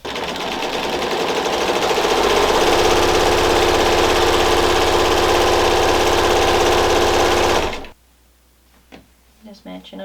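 A sewing machine stitching a quilt block runs loud and close at a fast, steady whir for about eight seconds, then stops abruptly, leaving quiet handling noises and a few soft clicks.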